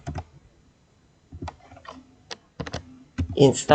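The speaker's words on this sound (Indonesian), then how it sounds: "Jadi tinggal ketikkan saja itu apt install" An apt install command typed on a computer keyboard, heard as short bursts of quick key clicks separated by pauses, close up, with a voice briefly speaking near the end.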